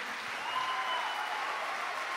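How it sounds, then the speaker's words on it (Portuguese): A church congregation applauds joyfully together, a brief, even wash of many hands clapping at moderate distance with no voices on top. "Quero que vocês aplaudam com muita alegria"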